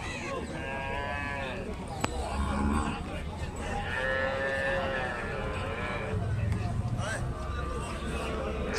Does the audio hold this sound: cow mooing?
yes